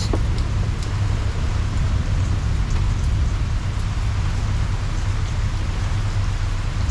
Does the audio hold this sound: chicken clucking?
no